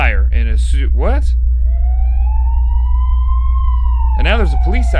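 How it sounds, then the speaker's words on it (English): A police siren in an indie horror video game wails with a long rising and falling tone, moderately loud, between stretches of someone talking over a steady low hum. "And now there's a police siren."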